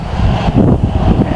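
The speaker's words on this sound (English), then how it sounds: "it's been very windy today." Gusting wind buffets the microphone in a low, rumbling roar, loud and close, with no voices.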